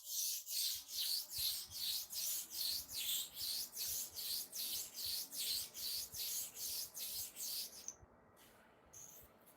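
Hair trimmer clipper blades being sharpened by hand, rubbed to and fro on an abrasive surface in a fast, even rhythm of about twenty raspy strokes, close and clear, before the scraping stops and near silence follows.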